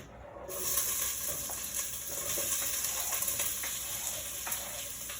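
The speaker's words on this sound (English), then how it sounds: "we're going to put our onion and garlic in and start sauteing that" Onion and garlic sautéing in a soup pot, a steady broad sizzle and hiss that holds at an even, moderate level throughout, with faint stirring scrapes and no talk.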